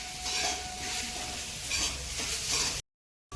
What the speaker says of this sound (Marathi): छान मस्त भाजलं जातंय.